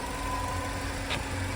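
2012 Chevy Malibu engine idling with a cylinder 2 misfire, a steady low rumble with faint mechanical vibration and a constant whine, heard close and alone.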